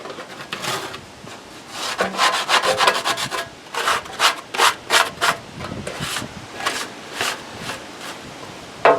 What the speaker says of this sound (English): you can see that it comes up fairly easy with the scraper